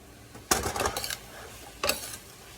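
Cooked fried cabbage scraped from a pan into a bowl with a utensil, two bursts of clattering metal scraping and clinks, the first longer and the second short, close and moderately loud with no talk.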